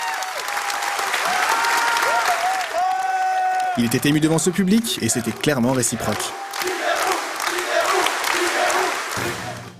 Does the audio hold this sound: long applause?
yes